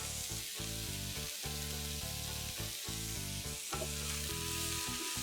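Salted vegetables cook in a pan with a steady, loud sizzle, while a bright tonal hum sits over the frying all the way through and no one talks.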